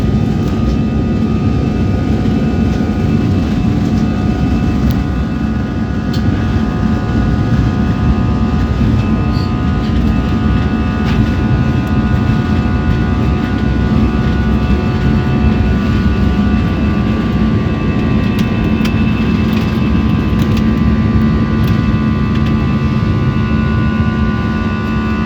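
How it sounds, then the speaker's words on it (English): Air Asia passenger jet roaring steadily as it accelerates down the runway for takeoff, heard from inside the cabin as a loud, continuous engine drone and rumble without a break. "Now aircraft is going to take off within few seconds"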